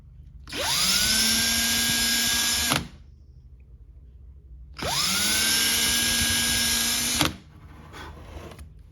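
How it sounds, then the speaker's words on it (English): Two bursts of a small high-pitched drill with a tiny bit whining steadily into wood for about two seconds each, separated by a short pause, close and fairly loud with no talking. "now I'm just going to use a tiny drill bit and drill those out"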